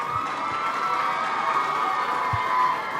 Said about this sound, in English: So I want you to now give yourself a big round of applause.